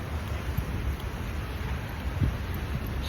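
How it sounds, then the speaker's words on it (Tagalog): Morning rain falls in a steady, even hiss, with a few soft low thumps and faint gusts mixed in, and no voices. "Ganda weather ngayon, umuulan."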